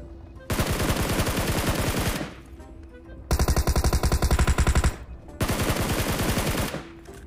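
Automatic weapon fire in the mobile battle royale game PUBG Mobile, in three loud, close sustained bursts of rapid shots separated by short gaps.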